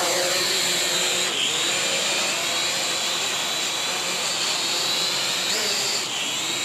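An Eachine E511 drone's motors whir up for a one-touch takeoff, a steady high-pitched buzzing whine holding at even loudness throughout, heard fairly close with no talking.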